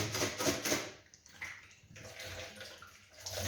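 Running water splashes and gurgles in short bursts as a bottle is rinsed, pausing briefly between pours, close by with no talking.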